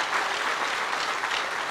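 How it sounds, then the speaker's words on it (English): A church congregation at a burial service applauds the clergy in a dense, continuous burst of clapping from many hands, steady and fairly loud throughout. "Let us clap and appreciate the clergy again."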